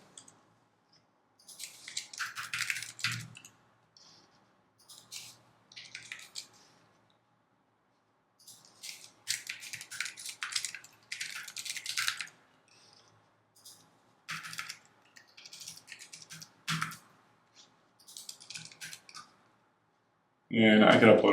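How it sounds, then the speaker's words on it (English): Typing on a computer keyboard while entering a name into a contact manager form, soft clustered keystroke bursts in several runs separated by pauses, close and fairly quiet, ending in a brief louder clatter. "I'll type in my name."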